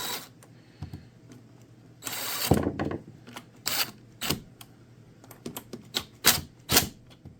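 Small metal clicks and scrapes from a screwdriver tightening screws on the fuel system of a McCulloch 30 Series chainsaw, a close, irregular series of sharp ticks with a longer rattling burst in between.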